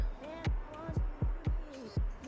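A sewing machine stitches a bodice for a cat-print shirt, producing a steady series of soft thumping pulses about twice a second, close and fairly quiet, with no voices.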